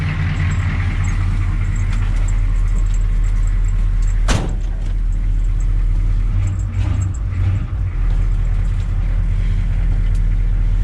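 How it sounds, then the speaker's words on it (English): A 6.2 diesel pickup truck engine running, a loud, low, steady rumble heard from close by, with one brief sharp clunk partway through and no talking. "This is how a diesel pickup's supposed to sound. Loud, obnoxious."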